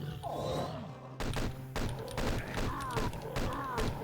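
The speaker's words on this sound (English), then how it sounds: "I like to snipe these Zombiemen that's across the area there, get them out of the way so I can grab their ammo for later." Gunfire from sniping Zombiemen in Doom 2, a string of sharp shots spaced over a few seconds amid game sound, with someone talking throughout.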